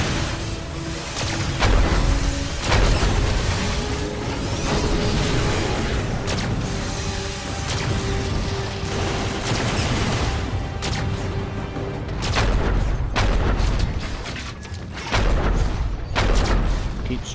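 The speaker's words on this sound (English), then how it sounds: "He's doing big heavy shots." A boss firing heavy fusion cannon shots in Transformers: Dark of the Moon on PS3, loud repeated booms and thuds amid a dense battle din, with a person talking over it.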